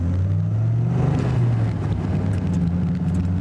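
A low 1997 Dodge Viper GTS rolls over bumps, its engine a steady, close, low drone from inside the cabin with slight thumps and shifts in pitch.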